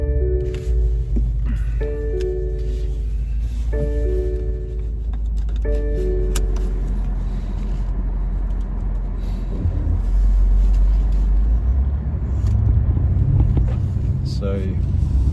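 A 2020 BMW M8 Gran Coupe with a 4.4-litre twin-turbo V8 rumbles low and steady while driving. A series of repeated chime tones sounds early on, and a voice talks over it.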